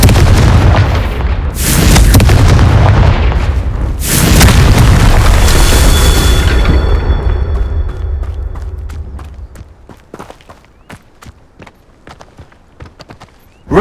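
A Confringo spell explosion in Hogwarts Legacy, two loud booming blasts a couple of seconds apart with heavy low rumble, then a long ringing decay fading into scattered debris clicks and footsteps.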